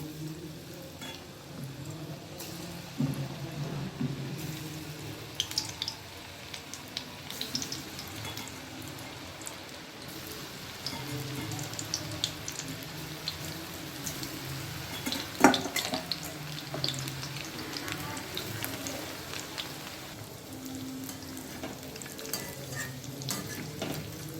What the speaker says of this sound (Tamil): நம்ம வந்து ஒன்று ஒன்றா போட்டு பொரிச்சு எடுத்துக்கலாம்